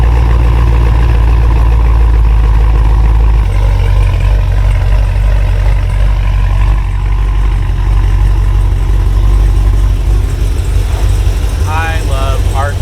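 Pontiac Trans Am engine with an Arch muffler, a loud deep exhaust rumble that shifts in tone partway through, running steadily near the microphone while people talk over it.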